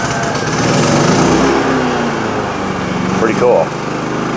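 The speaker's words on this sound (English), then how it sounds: "point it outside at your generator, and fire it up and have power" A Champion 75537i 3100W inverter generator runs steadily after a remote start, a loud close engine drone with someone talking briefly over it.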